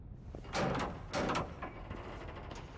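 A shipping container door opening in the video game Generation Zero, heard as two loud metallic scraping, sliding bursts one after another, followed by fainter clanks and rattles.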